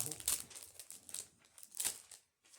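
Packaging around a magic notebook crinkles and rustles as it is opened, in short close bursts of plastic crackling mixed with faint voices.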